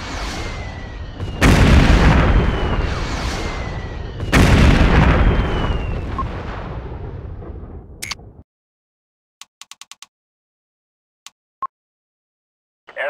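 Airstrike explosions in the video game MechWarrior 2: Mercenaries: two heavy, loud booms in quick succession, each rolling into a long rumbling decay, followed by near silence broken by faint clicks.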